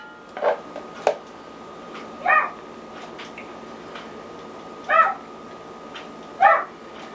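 A dog outdoors near a kamado grill gives several short yips or whimpers spaced a second or more apart, moderately close, against a quiet background hum.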